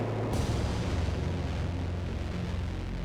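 A loud explosion in the video game Children of the Sun bursts suddenly, then rumbles and decays over a few seconds, with no voices.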